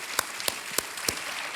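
Studio audience applause on the Indian TV quiz show Kaun Banega Crorepati, a steady wash of clapping punctuated by a few sharp, distinct claps, moderately quiet and with no voices over it.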